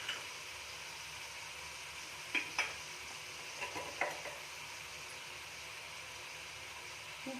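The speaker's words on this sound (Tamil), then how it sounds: "இந்த எண்ணெயிலேயே கொஞ்ச நேரம் நம்ம கிளறி விட்டுக்கலாம்." Coriander powder and chili powder are stirred in hot oil for a goat head curry, a quiet steady sizzle broken by a few sharp spoon scrapes and taps against the pan, with no talking.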